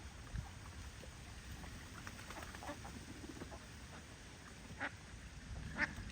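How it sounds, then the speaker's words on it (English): Ducks foraging in farm grass give a few scattered quacks and soft calls over a steady outdoor background, with a louder call near the end and no talking. "ducks are cuter than chickens in my opinion. They just forage and forage."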